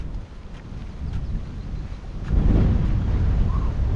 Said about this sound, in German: Es stürmt, aber die Sonne ist schön warm.